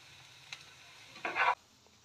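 Mashed potatoes fry in a pan and are stirred, with a short sizzling scrape burst near the middle of an otherwise quiet moment, plus a faint tap just before it.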